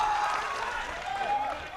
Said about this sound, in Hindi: एक बार तालियां बजा के हौसला दे दो